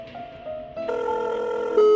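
A phone ringtone plays on an unanswered call, a clear electronic melody stepping upward in pitch and growing louder over two seconds, with nothing else heard.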